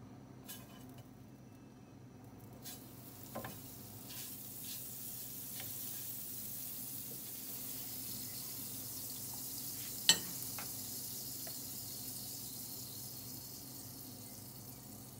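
Pancake batter cooks in a dry pan with no oil, a quiet steady sizzle punctuated by occasional utensil clinks and one sharp tap near the end.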